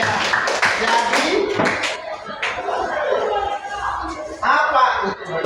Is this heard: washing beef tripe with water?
no